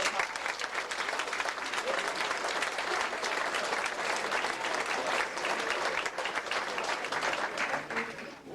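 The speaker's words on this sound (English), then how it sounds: "I think that deserves a great big round of applause" Audience at a homecoming dinner dance breaking into a great big round of applause, dense and sustained clapping from a large room, fairly faint and steady, with faint chatter mixed in.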